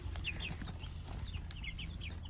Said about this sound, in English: I really love these chicks.